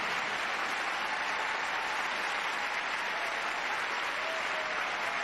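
Crowd applauding after Michelle Kwan's figure skating program at a 1996 skating event, dense sustained clapping filling the arena at an even level with no break or voices.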